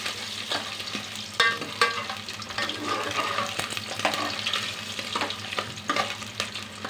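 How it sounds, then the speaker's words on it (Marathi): Mutton fat fries in hot oil with a busy crackling sizzle, punctuated by frequent scraping stirs and small clicks of a spoon in the pan, close and unbroken by speech. "ही जी चरबी आहे ती टाकून घेऊया तेलामध्ये छान अशी भाजून"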